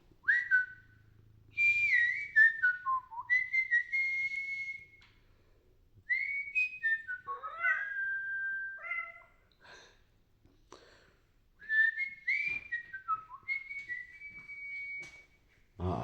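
A man whistles loud, sliding and warbling phrases in bursts with pauses between, close by in a quiet room, as a cat is drawn to the sound.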